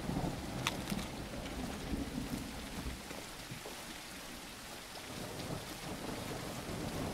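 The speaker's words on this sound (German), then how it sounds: "Wie, es gibt Regen." Rain in the survival video game Tribe: Primitive Builder, a steady soft patter of falling drops with faint distant rumbling beneath it, quiet and continuous with no voices.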